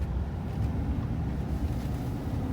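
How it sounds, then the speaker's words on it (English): A 2003 Chevy Silverado 2500HD with a 6.0L Vortec V8 and a four-speed automatic rolls along, giving a steady low rumble mixed with road and wind noise and no talking. "Okay, guys, we're driving the Silverado now."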